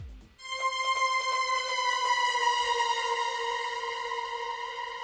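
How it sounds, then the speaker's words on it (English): A violin string sample pitched down in a tech house mix rings out as a sustained, harmonically rich tone that starts after a brief low thump and slowly fades over five seconds, alone and without voices. "It's the sound of a string of a violin"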